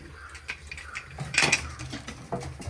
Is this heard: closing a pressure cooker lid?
yes